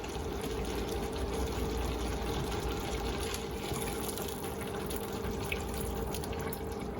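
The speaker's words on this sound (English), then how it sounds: "I'm going to give it a bit more water." Water pours steadily and continuously into a pot of lentils and rice, a close, even rushing splash that holds at a constant level throughout.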